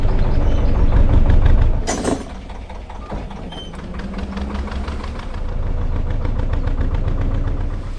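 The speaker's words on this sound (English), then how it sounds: "there's a boat coming through the bridge hole." A low, rumbling canal boat engine chugs steadily with a knocking throb, close by, as the boat passes through a bridge hole, after a loud thump near the start.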